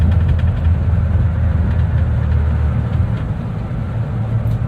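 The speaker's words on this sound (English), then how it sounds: "Got some rattles. I think it's some stuff in the glove box, and like that mirror likes to rattle too." A manual 1993 Ford F-150 beater pickup with an inline-6 drives along, its steady low engine drone and road rumble filling the cab continuously; loose items in the glove box and a mirror may rattle but are not distinct over the drone.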